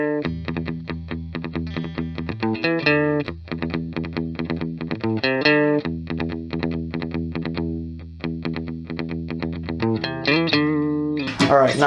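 Electric guitar played through a Sofadio overdrive/booster pedal with drive fully down and tone fully up, giving a bright, clean-edged sound; a steady run of picked chords and single notes rings out alone at even volume.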